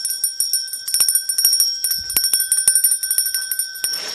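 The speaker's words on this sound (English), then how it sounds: "How about I just ring the bell?" A hand bell rung rapidly and repeatedly on a gemstone live stream to celebrate a tanzanite sale, bright metallic strikes close to the microphone, sounding alone with no talking.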